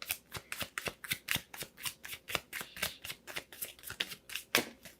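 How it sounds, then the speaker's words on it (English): A tarot deck being shuffled by hand, a quick run of crisp riffling card snaps in a steady rhythm, close and fairly quiet, with no talk. "Let me just pull one more card, okay?"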